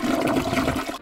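A toy toilet from a Finding Dory racing game flushes with a loud, close, steady rush of water that lasts about a second and cuts off abruptly, with no talking.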